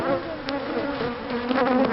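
A honeybee buzzes steadily and close up, a continuous droning hum with no voices over it.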